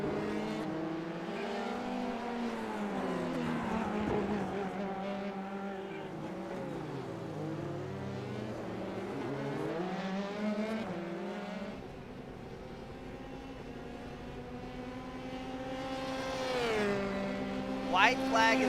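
Formula 3 race cars roar through a video game street circuit at Long Beach, engines rising and falling in pitch as they pass and shift, continuous and loud, with a commentator talking over them.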